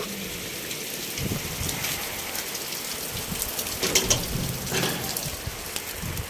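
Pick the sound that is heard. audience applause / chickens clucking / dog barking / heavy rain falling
heavy rain falling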